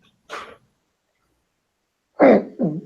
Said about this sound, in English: Sorry, I had a fish burp.